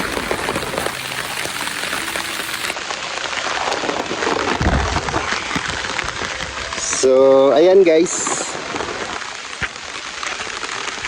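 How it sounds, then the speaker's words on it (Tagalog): Heavy rain pours on leaves outdoors in a steady dense hiss, with someone talking over it throughout and a brief louder rustle near the end. "Grabe ang lakas ng ulan."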